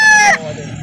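A rooster crows loudly for about a third of a second at a poultry market in Calauan, Laguna, the call cutting off abruptly into quieter background noise.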